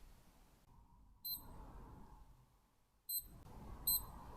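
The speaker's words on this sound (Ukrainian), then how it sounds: "Спрацьовуватиме будильник протягом 20 секунд, коли буде досягнутий час." Short high electronic alarm beeps from a Skmei quartz wristwatch sound in brief bursts, once, then twice more near the end, over quiet background noise.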